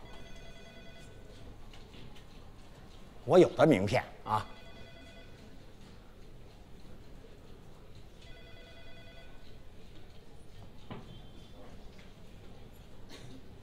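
A telephone rings in short repeated bursts during an unanswered call in an office lobby, fairly clear over steady room tone, with people speaking before and after.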